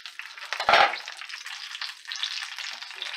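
Bacon crackles and sizzles in a hot pan, a dense spitting hiss with one loud sharp burst of frying early on, then steady popping sizzle continuing close by.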